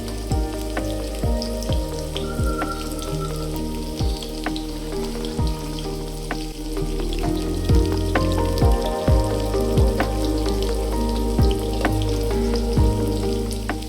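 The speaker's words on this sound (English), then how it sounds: "It looks like the fish broth is boiling nicely now." A pot of fish broth boils away with steady bubbling, small pops and ticks coming in an irregular rhythm, close by, with no voices.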